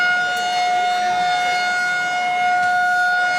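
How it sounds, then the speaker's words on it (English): A civil defense weather siren wails loud and steady at a Northern League baseball game between the Eau Claire Cavaliers and the Eau Claire Rivermen, a sustained tone holding throughout with no talk. "And we have sirens, and the umpires have called time."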